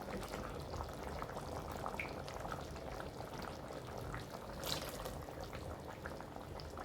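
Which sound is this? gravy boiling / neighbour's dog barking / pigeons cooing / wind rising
gravy boiling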